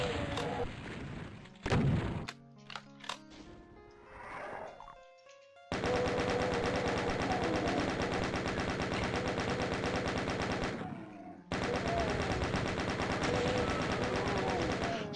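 Sustained rapid gunfire in the DOOM game while fighting a Revenant, with a few scattered shots and thuds at first, then long loud continuous bursts broken by a brief pause.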